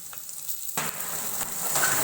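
Onion frying in a pan with chopped ginger and garlic, a steady loud sizzle that jumps in intensity as the onion goes in and keeps crackling alone.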